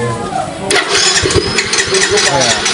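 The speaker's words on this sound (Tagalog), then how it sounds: "Pakita ko sa inyo kasi ayaw niya umandar." A Yamaha Mio motorcycle engine cranks repeatedly but fails to start, its electric starter whirring in steady, close, loud bursts while voices talk nearby.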